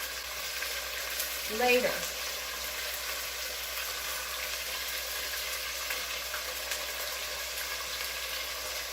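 Chicken pieces brown in a hot pan with a soft, continuous sizzle and faint crackle, while a brief murmured word rises over the frying.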